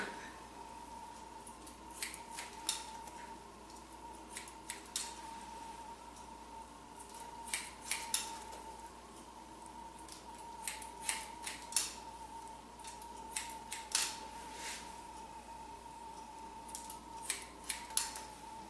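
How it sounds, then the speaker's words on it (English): Scissors cutting a boy's long hair short during a haircut, with faint, crisp snips that come in small clusters and are spread across a quiet background hum. "Gotta love cutting all this hair off."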